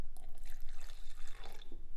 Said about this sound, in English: We're going to add 25 mils of cleaner concentrate per liter.